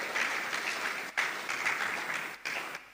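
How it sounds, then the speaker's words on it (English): Applause at a university college of law inaugural dinner, a sustained wash of many hands clapping in a hall, moderately distant and soft, swelling and dipping with brief gaps. "A round of applause for the Dean of Law"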